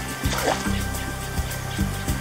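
Water splashing and trickling as someone plays in a river or shallow water, a close, continuous wash of splashes with a few sharper bursts, alone without talk.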